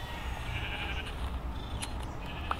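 A Minecraft goat bleats in the video game over a steady low background hum, giving a brief nasal call or two with no talking.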